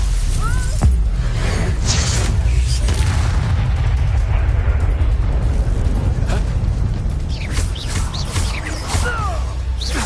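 A Confringo blasting curse explodes in Hogwarts Legacy with a loud, booming burst near the start, followed by rumbling blast noise and further impacts amid game combat, with character voices heard in places.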